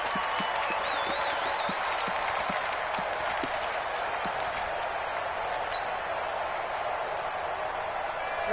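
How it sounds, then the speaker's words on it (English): Stadium crowd in a football video game roars and cheers steadily as the home field rallies before a big third down, a dense continuous wall of crowd noise with scattered claps throughout. "The crowd getting into it as we come up on a big third down."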